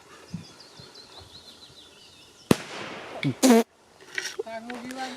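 Soft birdsong in the background, then a sharp pop followed by brief bursts of crackling as an ACHTUNG P1212A Kometa firework misfires, sputtering rather than fully bursting.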